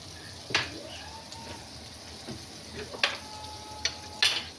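Butter sizzling in hot oil in a home pan while bean ful is being made: a soft, steady fry hiss broken by a few sharp clicks and spatters.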